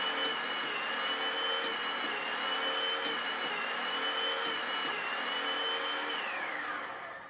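An Enerpac hydraulic torque wrench pump runs at a steady, loud motor whine while it tightens a fastener. The whine holds throughout with faint clicks, then its pitch sags and fades as the pump winds down at the end.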